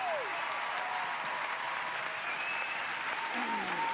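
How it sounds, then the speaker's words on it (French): Audience applause at a live vocal sing-off show, a dense steady wash of clapping filling the room with a few whoops rising above it. "je pense qu'on peut les applaudir."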